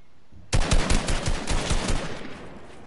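Rapid video game gunfire starts abruptly after a quiet moment, a loud automatic burst of closely spaced shots that runs about a second and a half, then trails off into a ringing tail with no voices.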